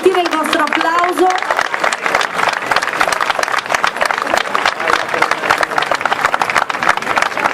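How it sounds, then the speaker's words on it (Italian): An audience applauds at a literary award ceremony for songwriters, the clapping dense and continuous throughout. A voice speaks briefly over the clapping at the start. "fate sentire il vostro applauso."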